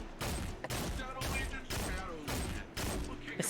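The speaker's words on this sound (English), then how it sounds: "Is that you firing that cannon?" A hand cannon firing in a video game, loud repeated booming shots about every half second over dense game noise.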